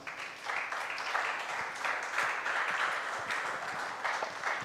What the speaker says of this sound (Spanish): Dale un aplauso, por favor.